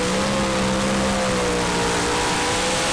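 A Renault Clio with its exhaust missing runs loud and raw, the engine droning steadily with a harsh, unmuffled rasp and a fairly constant idle-to-rev tone, close by with no talk.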